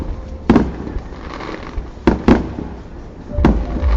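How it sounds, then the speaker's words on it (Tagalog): Three sharp firework bangs burst out at irregular intervals over a steady crowd-like background rumble at Mall of Asia, each crack loud and echoing. "nasa harap lang natin yung ano, fireworks oh."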